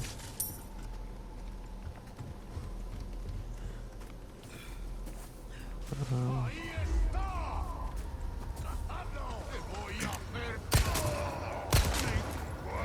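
Gunshots fired at enemies in the video game Resident Evil 4, a few sharp reports including two loud isolated blasts near the end, over a busy game soundscape with footsteps and clatter while someone talks.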